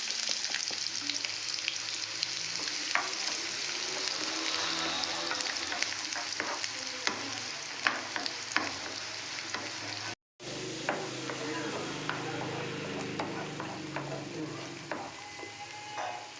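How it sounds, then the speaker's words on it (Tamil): Three large sliced onions sauté with star anise in hot oil for a spicy egg pepper gravy. A steady, close sizzle runs throughout with scraping stir strokes, and there is a brief break midway. "நறுக்கின 3 பெரிய வெங்காயத்தை சேர்த்து வெங்காயம் கண்ணாடி பதத்துக்கு வணக்கிக்கலாம்."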